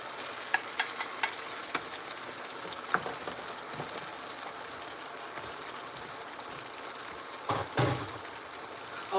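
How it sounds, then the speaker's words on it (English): Mussels are stirred slowly in a pasta pan, sizzling and frying steadily with soft scraping clicks and occasional louder knocks from the utensil, close and fairly quiet. "We're going to give it a little slow stir."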